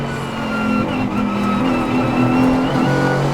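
A Mercedes-AMG GT4 race car drones loudly at speed during night practice at the Dubai 24 hour, its steady engine note shifting in pitch as it runs among other GT cars, with tyre noise underneath.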